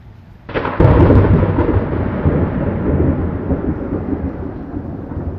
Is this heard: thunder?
yes